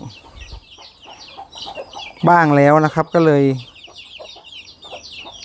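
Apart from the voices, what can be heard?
chickens clucking in a farm coop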